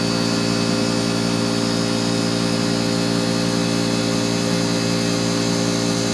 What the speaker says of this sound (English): the air compressor restarted because I haven't shut it off yet.